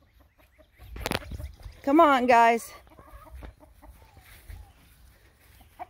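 Chickens in a chicken coop at morning feeding, a loud close rising cluck-squawk burst amid softer scattered clucks, with a person calling to the birds briefly.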